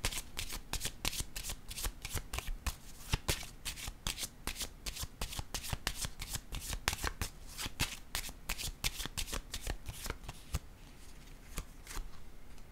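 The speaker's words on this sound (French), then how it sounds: "Attendez, je vais piger une autre carte." Tarot cards being shuffled by hand, a quick run of crisp riffling flicks with a steady rapid rhythm, close and fairly quiet, with no voice over it.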